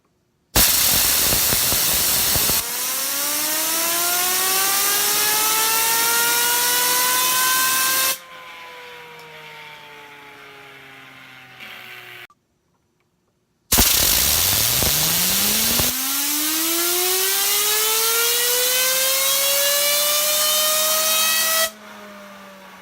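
A Damned Designs Triad fidget spinner whirs during a spin test, each spin starting with a loud rising whine that settles into a smooth hum and fades after a short time. There are two separate spins with a brief silence between them.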